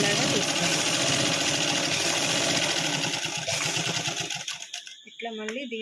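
A sewing machine stitching cloth along an edge, a loud, steady, rapid mechanical whirr with a rhythmic clatter that runs for most of the time, then slows and stops near the end, followed by brief handling sounds.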